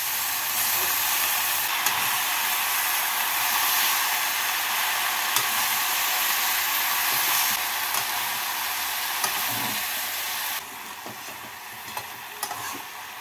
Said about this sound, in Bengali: পালং শাক দিয়ে সবজির সাথে নাড়াচাড়া করে নেব।